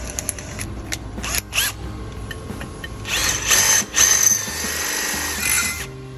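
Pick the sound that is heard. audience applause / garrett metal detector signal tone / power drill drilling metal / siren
power drill drilling metal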